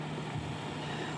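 A 6-inch plastic exhaust fan installed in a bathroom runs with a steady, close whooshing airflow and a constant low motor hum, brief and uninterrupted.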